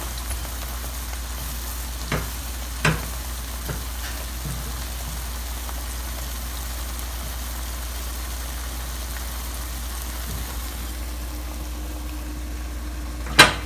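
Fenugreek seeds dry roasting in a pan give a faint, steady hiss, broken by a few soft stirring scrapes and ticks. A sharper clink comes near the end, and no one speaks.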